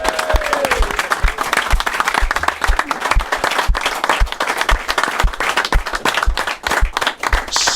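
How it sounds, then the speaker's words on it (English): A studio audience gives a big round of applause on a TV show set, with dense, steady clapping that stays loud and continuous throughout. A few crowd voices rise briefly within it. "a big round of applause"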